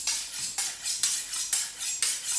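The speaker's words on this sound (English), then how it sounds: "I need a bigger knife for chopping my okonomiyaki." A large knife chops Hiroshima-style okonomiyaki on a hard surface, giving five or six sharp, evenly spaced cutting strikes close by, each with a bright clack and a short scrape, with no talking.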